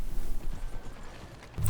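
Hooves of a horse in Red Dead Redemption 2 clopping along a road in a steady trotting rhythm, fairly close, with a brief heavier thump near the end.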